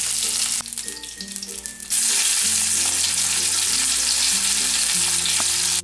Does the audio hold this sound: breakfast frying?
yes